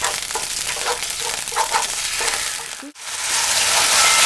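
Loud, steady sizzling of japchae vegetables such as cabbage stir-frying in a hot pan with water sprinkled in, with a brief drop in the noise near the end before the hiss swells back.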